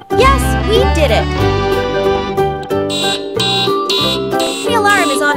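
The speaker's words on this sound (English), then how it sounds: "The alarm is on again!" An electronic alarm on a children's toy beeps in loud repeated bursts of bright tones with warbling melodic pitch sweeps, close and dense, filling the whole stretch.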